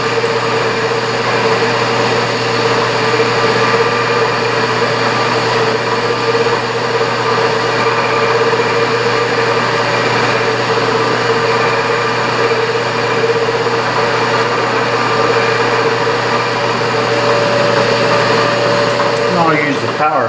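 Milling machine on power feed taking a 50-thousandths pass in metal for a scissor knurl tool, cutting 3/4 inch deep: a steady, loud motor whine with a continuous cutting hum throughout.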